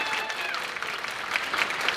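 At a graduation ceremony, an audience gives a short burst of steady, fairly soft clapping, with a few voices faintly underneath.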